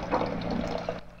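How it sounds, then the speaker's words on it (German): A water dispenser fills a cup in the video game Phantasmagoria, a brief burbling pour of liquid at moderate volume that stops abruptly just before the end. "Ah, sie zieht sich erstmal ein Wässerchen."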